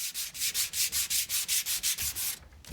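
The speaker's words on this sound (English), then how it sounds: "Finish off and smooth down the patched areas with a medium grade sandpaper." Medium grade sandpaper rubbed back and forth over filled holes in interior woodwork, a steady run of about a dozen even, rhythmic scratchy strokes, close and clear, with a short pause near the end and no talking.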